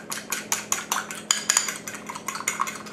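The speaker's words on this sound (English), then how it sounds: "So you want to beat the egg good" Egg beaten in a bowl for a batter of onion, okra and green tomatoes, a fork or whisk clicking against the bowl in a fast, steady rhythm of repeated light strokes, close and alone.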